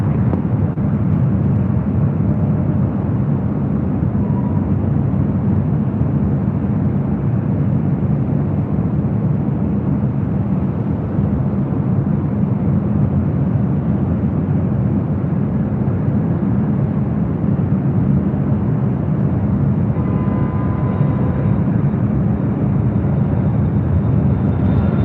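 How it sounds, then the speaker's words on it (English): A Delta Boeing 767 arriving at LAX from Honolulu, a steady loud low roar of jet engines that holds evenly throughout with no gaps and nobody talking. "3720, Delta 767. Next arrival coming in from Honolulu."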